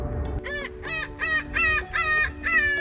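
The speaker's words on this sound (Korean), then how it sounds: "갈매기들 시끄러워라" Seaside gulls calling repeatedly by the shore, a series of six loud harsh rhythmic cries close by, with faint low background noise at the start.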